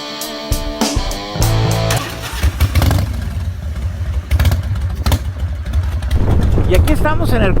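A motorcycle engine rumbles and revs up close on a riding day out with a group of bikers, with someone talking in Spanish over the engine.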